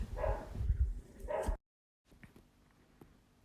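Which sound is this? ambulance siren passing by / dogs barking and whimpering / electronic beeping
dogs barking and whimpering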